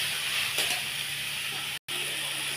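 Ash gourd curry simmering in a covered pot gives a steady soft steamy hiss throughout, broken by a brief silent gap near the end.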